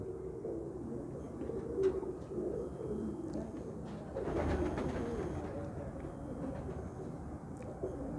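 Pigeons cooing in a loft kept by a pigeon fancier, soft repeated low coos with a faint background hum and a brief clatter, fairly quiet.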